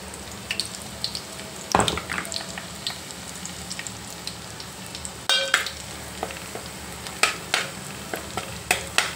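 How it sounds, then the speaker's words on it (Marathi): Ground spice paste fries in hot oil over a low flame, a soft sizzle under repeated scraping stirs and taps on the pan. There is a splash of water early on, and no talking. "तेल थोडं गरम होऊ द्यायचे, चांगलं बारीक गॅसवर ठेवायचा। त्याच्यात घालूया आपण हे वाटलेलं वाटण।"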